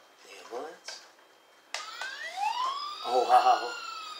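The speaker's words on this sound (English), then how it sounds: "The ambulance." An ambulance siren wails with rising, sweeping tones for a couple of seconds, fairly close. Voices talk and exclaim around it.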